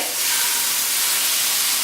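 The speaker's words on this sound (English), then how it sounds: "You can hear that start sizzling." Steady, bright sizzling of tomato slices frying in a hot pan, a continuous close hiss with no talking.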